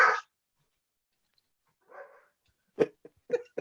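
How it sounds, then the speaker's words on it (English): A puppy barks and yelps indoors in short, separate bursts: one sharp bark at the start, a softer whine later, then a quick cluster of yaps near the end, fairly close amid silence. "I got a puppy over here that's driving me nuts."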